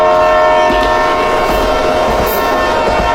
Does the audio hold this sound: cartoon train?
yes